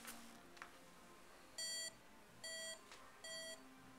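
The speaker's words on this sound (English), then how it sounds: "You hear the beep." Three bright tonal beeps from a flight computer, each lasting about a quarter second, sound loud and close at regular intervals over a faint background hiss.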